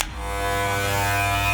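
An electric beard trimmer gives a steady, close, loud buzz with a constant pitch. No voices.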